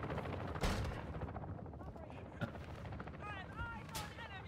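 M4 rifle fire in a team deathmatch video game, a few scattered sharp bursts and single shots at low level, with faint voices and game noise around them.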